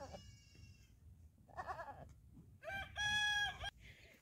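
Baby goats and sheep cry in a desert African village, giving several short, close bleats with quiet gaps between them.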